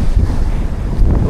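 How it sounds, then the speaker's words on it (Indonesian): Strong wind buffeting a microphone outdoors on a daytime street in Japan, a constant loud low rumble and roar that fills the whole short stretch, with no speech. "Anginnya."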